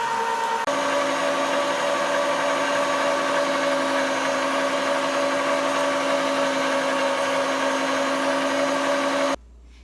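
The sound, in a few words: meat grinder grinding venison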